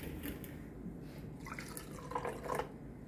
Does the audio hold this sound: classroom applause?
no